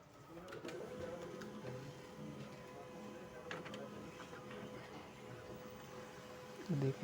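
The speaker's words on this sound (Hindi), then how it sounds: "और देखिए प्रिंट आ रहा है अभी।" Canon printer printing a test page, a faint mechanical whir with soft periodic clicks of the paper feed, fairly quiet and continuous, ending with a brief louder knock.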